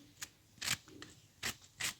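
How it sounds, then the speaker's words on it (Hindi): A knife finely chops ridge gourd (tori) on a board, making four or five crisp, sharp cuts at an uneven pace, close and fairly quiet, with no talking. "पहले धो के सुखा के फिर आप बारीक बारीक इसके काट लें।"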